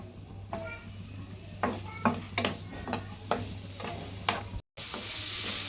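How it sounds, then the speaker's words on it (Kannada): Paneer sizzles in a hot pan while a spatula stirs it, giving repeated scraping strokes at an uneven rhythm over a steady frying hiss, close up with no talk. "ಪನ್ನೀರ್ ಫ್ರೈ ರೀ."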